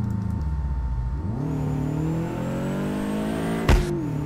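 Inside the cabin of a Subaru BRZ in the Drift21 driving game, the boxer engine idles low, then climbs into a rising rev, and a sharp pop cuts through near the end, with no talk.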